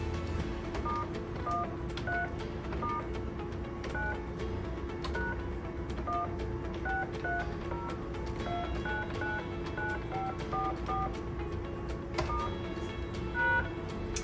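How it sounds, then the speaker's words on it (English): Short keypad tones of a Talkaphone ETP-500 emergency phone are entered one after another at a steady pace, the dialed digits running through a long number over a constant low hum and faint background noise. "So when we enter that phone number, it's going to be 9, pound, the rest of the phone number"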